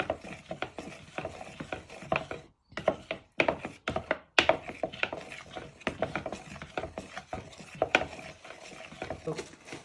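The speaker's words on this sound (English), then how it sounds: "Then you give that a good stir in." A spoon stirs a marinade for Chinese starters in a bowl, giving a run of close, irregular scraping and knocking strokes with brief pauses, and no talking.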